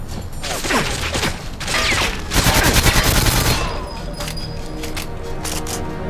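Rapid gunfire in GoldenEye 007 on the Wii, close and loud bursts of repeated shots in quick succession, with a brief stretch of mechanical clatter and softer ambience afterward.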